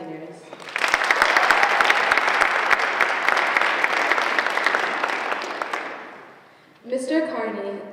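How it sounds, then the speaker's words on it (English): An audience at the Grafton High School National Honor Society senior reception applauds for the seniors, swelling quickly into a full round of clapping that tapers off before a voice begins speaking. "Please give a round of applause for the Grafton High School National Honor Society seniors."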